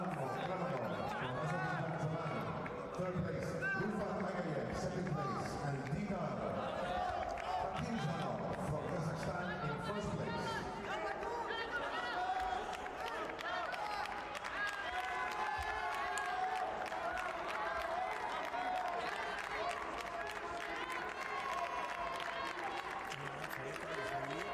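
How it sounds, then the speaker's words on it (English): A crowd applauds and cheers at a jiu-jitsu world masters championship in Abu Dhabi, a sustained wash of clapping and crowd noise across the whole stretch, with a commentator's voice talking over it. "Big round of applause here"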